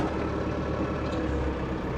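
A John Deere 5520 tractor engine runs steadily, a close, continuous low rumble with no break throughout.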